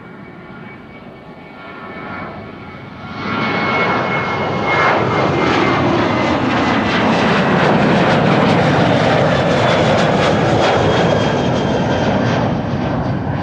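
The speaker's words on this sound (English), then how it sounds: "We're waiting for the next departure from Kaagbaan, runway 24. There it is, KLM flight 1167 to Bergen" A KLM Boeing 737-800 jet departs Amsterdam Schiphol's Kaagbaan runway 24, its engine roar swelling sharply after a few seconds of low rumble into a loud, sustained, broadband takeoff thunder that holds steady to the end.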